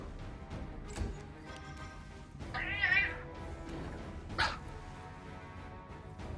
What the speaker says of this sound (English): Can you hear my cats?